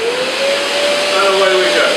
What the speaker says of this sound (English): I'll just turn the extractor on.